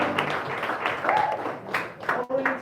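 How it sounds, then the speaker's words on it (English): An improv show audience claps and cheers in a lively burst that swells and dips unevenly, with a voice speaking over the crowd noise. "Give them a round of applause"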